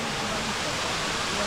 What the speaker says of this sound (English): got to come to Erawan National Park to see these epic waterfalls